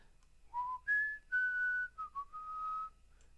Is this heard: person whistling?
yes